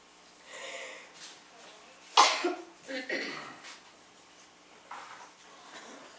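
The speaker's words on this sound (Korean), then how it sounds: "왜 이렇게 기침이 나요?" A sharp cough bursts out once, followed by a few softer throaty coughs and breaths, close by and fairly quiet.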